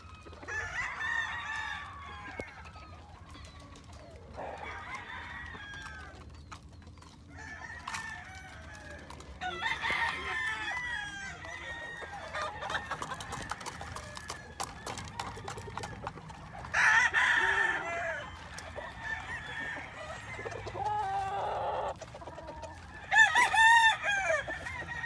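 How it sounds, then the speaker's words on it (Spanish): Many chickens clucking with roosters crowing repeatedly at a poultry farm of birds for sale, several crows rising over steady background clucking, moderately near. "Aquí hay muchas aves para seleccionar."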